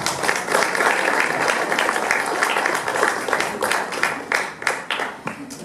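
A symposium audience in Lima claps for arriving panelists, with steady applause that grows patchier and more scattered toward the end, individual claps standing out, and a faint voice under it.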